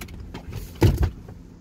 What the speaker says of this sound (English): So to put them up and down, it's just one pull.